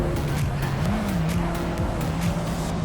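A Honda Civic Type R FL5 races in a video game, its engine note rising and dipping through gear changes while tires squeal in bending whines over a loud, continuous roar.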